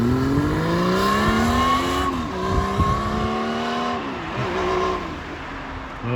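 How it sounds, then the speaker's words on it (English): A car engine revs hard, its pitch rising and falling through several surges, loud and close, with no talk. "He revs the nuts off it now."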